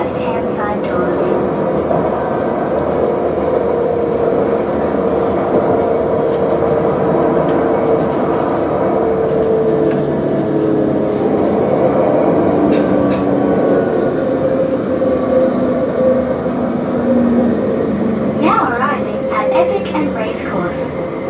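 Loud, continuous rumble of a Canberra Light Rail tram in motion, rattling and humming throughout, with a brief squeal of wheels near the end while voices murmur.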